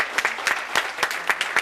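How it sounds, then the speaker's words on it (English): Applause at a town board meeting, honoring neighborhood associations: steady clapping from a room of people with sharper individual claps popping out, fairly close and alone without talk. "please give a round of applause to all these neighborhood associations and all"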